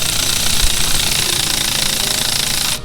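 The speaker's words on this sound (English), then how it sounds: "Electric ratchet," Electric ratchet running in a home shop, a steady loud buzzing whir that holds for nearly three seconds before cutting off abruptly, with no voices.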